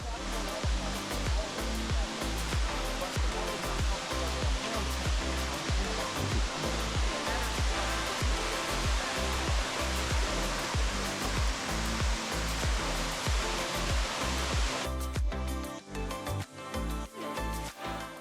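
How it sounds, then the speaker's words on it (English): Loud, continuous roar of High Shoals Falls in Georgia, water dropping over 300 feet, a dense rushing wash that stays steady throughout with no voices. "listen to the water fall over 300 feet"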